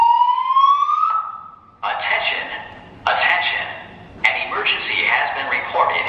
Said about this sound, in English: I understand there's fire alarm testing